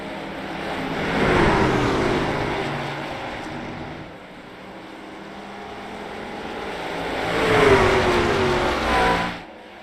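Sim race cars restart at IRP in a video game, their engines swelling and fading as the pack sweeps past, loud and close twice with a whooshing rush between.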